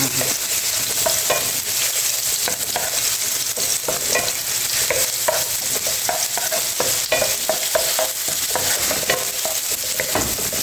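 Ginger sautés in olive oil in a pan as the base for spicy chicken in coconut milk, a steady close sizzle with repeated scraping stirs running throughout, no voices.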